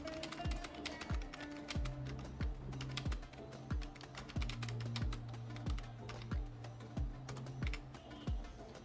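Steady, close typing on a computer keyboard fills the scene with a quick, even run of light key clicks and regular heavier taps, with no talking over it.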